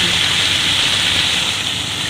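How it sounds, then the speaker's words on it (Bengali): Water is poured into a hot frying pan of fried drumsticks and vegetables, producing a loud, steady gushing sizzle that holds evenly throughout. "জল দিয়ে দিচ্ছি,"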